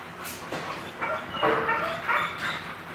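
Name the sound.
dog barking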